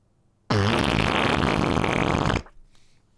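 A loud digital fart sound effect erupts after a short silence, one sustained, buzzy blast lasting about two seconds before cutting off, followed by faint background noise.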